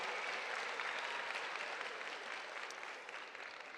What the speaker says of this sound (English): a quick round of applause for Miss Moore and everyone involved, Miss Lewis, Miss Jones, and everyone else